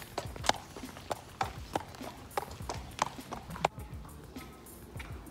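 Horses walk on a forest path, hooves clip-clopping in a clear, even rhythm close by, fading slightly toward the end.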